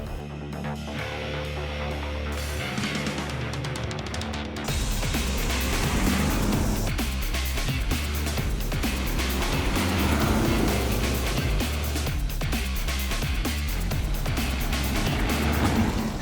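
Cabin and road noise from a BMW X3 xDrive20d M Sport diesel SUV crossing a rough, bumpy road: a steady low rumble with jolts and rattles that swells louder after a few seconds, continuing without talk.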